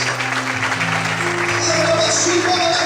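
Applause fills a church during worship, continuous clapping layered over held instrumental chords, with voices calling out amid the sound.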